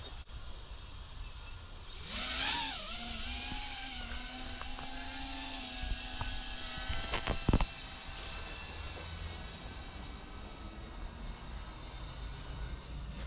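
A small drone hovers overhead during a rescue of another stuck drone. Its rotors give off a buzzing whine that climbs in pitch and then holds steady, with a few sharp knocks near the middle and light background hiss.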